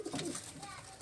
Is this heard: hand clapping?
no